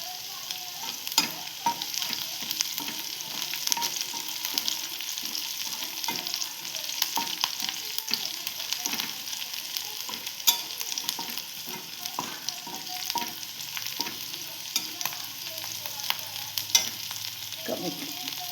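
Chopped green chilies sizzling and frying in hot oil in a pan for paneer chilli, a steady crackling hiss with scattered spatula scrapes and stirring clicks throughout, close and alone with no talk.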